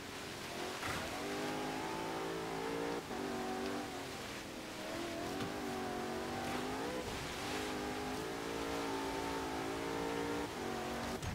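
A 1993 Porsche 928 GTS tuned to 730 horsepower races up the snowy Blizzard Peak hill climb in Forza Horizon 3, its engine droning and revving through repeated gear changes, with brief tire noise, close and steady.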